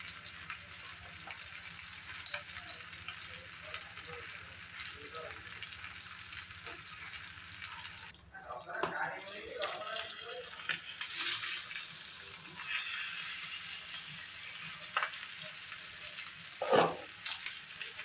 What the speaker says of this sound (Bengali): খুব সুন্দরভাবে রোস্ট হয়েছে, আর একটু সময় রাখলেই আমার চিকেনটা হয়ে যাবে।